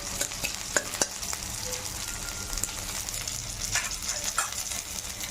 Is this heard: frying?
yes